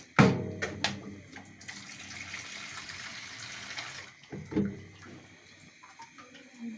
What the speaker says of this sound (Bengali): 2 কাপ পরিমাণ পানি মাংসটা সিদ্ধ হওয়ার জন্য